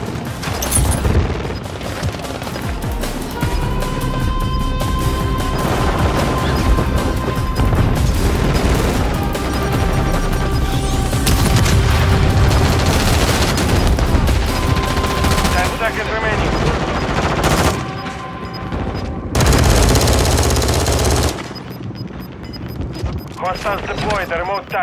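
Sustained heavy gunfire in a Call of Duty: Modern Warfare 3 multiplayer match, continuous loud automatic bursts and explosions filling the whole stretch, with voices calling out over the din.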